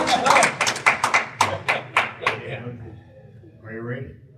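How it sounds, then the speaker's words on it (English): An audience at a poetry event claps together in a burst of sharp, rhythmic hand claps that fade out after a couple of seconds, leaving quieter room sound and a voice. "Just make some noise, clap it up."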